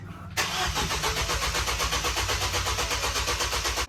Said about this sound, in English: I'm gonna hit the start button, and it should go for 10 seconds, but not actually start.